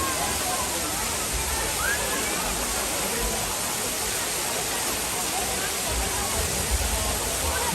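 A waterfall at Masqara in Surxondaryo roars as steady, dense rushing water, loud and unbroken throughout, with faint voices mixed into the noise.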